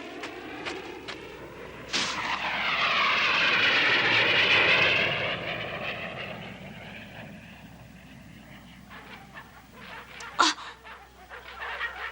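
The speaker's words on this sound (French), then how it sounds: "Des avions de reconnaissance." Reconnaissance propeller airplanes drone overhead, swelling loudly then fading away, with sharp clicks and a thump near the end.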